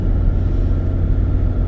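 Heavy vehicle rumble on the CLLEX expressway, a steady low roar of trucks rolling past, loud and continuous through the short moment with no break.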